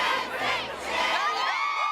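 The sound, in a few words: crowd cheering at the NSYNC Hollywood Walk of Fame ceremony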